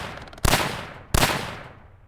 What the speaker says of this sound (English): there's a gunshot I can hear